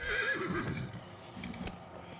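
A horse in the video game Dragon Age: Inquisition gives a loud, close whinny that rises and wavers near the start, then trails off into quieter game ambience.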